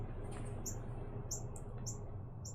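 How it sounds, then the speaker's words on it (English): A bird chirps outside a window, several short high tweets in a quick irregular series, fairly faint over a low steady background hum. "Is that a bird outside my window?"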